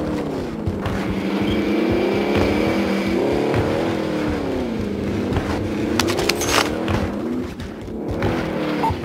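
A vehicle engine in Call of Duty: Warzone drones steadily as the car drives, its pitch rising and falling with throttle, loud and continuous with a few sharp clatters partway through and no talking.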